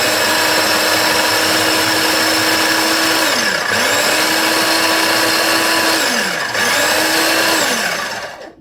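Kitchen mixer grinder blending breakfast batter with peas, a loud steady motor whine that dips and restarts in short pulses, running alone without talk.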